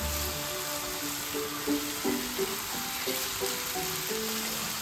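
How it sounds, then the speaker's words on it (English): Rice cooks in a pan with a steady, close frying sizzle and soft crackle, alone and even throughout, with faint stirring bumps. "Rice cooking."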